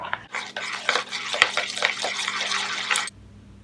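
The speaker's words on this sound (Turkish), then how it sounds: "Karıştıralım." A spoon stirs salt, sugar and a packet of dry yeast in a bowl, giving about three seconds of continuous close scraping and swishing with small rhythmic strokes.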